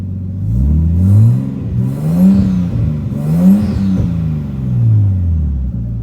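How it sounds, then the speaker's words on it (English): Nissan Skyline engine revved repeatedly, several rising and falling throttle blips in a loose rhythm, close and loud with a deep rumbling idle between revs, no talk. "go back in here and rev it up for you guys"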